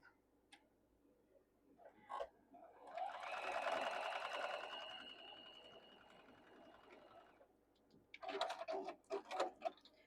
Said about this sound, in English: Edges even, 1/4 inch seam. Back stitch when you start and when you stop.